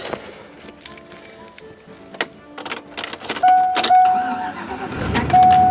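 Car engine cranked with a jump starter, keys jangling in the ignition before the motor turns over and catches into a loud, steady, close idle with a tonal whine, no talking.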